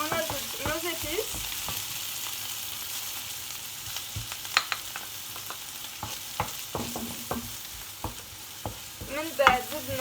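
Spices stirred into a frying pan with meat and potato, a steady sizzle under scattered scraping clicks and spoon knocks, close and moderately loud throughout.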